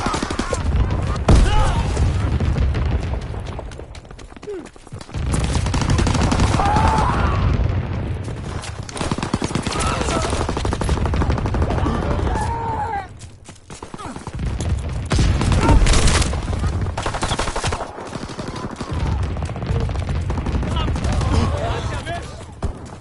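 Gunfire and flak guns pound through a video game battle, dense bursts and rapid volleys rolling almost continuously with brief lulls, while voices call out over the din.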